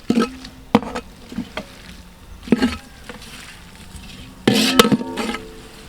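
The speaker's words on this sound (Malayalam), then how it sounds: "അപ്പോൾ നമ്മുടെ ഉള്ളിയൊക്കെ അത്യാവശ്യം വഴറ്റിയെടുത്തിട്ടുണ്ട് കേട്ടോ" Onions for mutton biryani are sautéed in a pot, heard as intermittent metal clanks and scrapes of the spoon against the vessel over a soft sizzle, with a louder burst of stirring near the end.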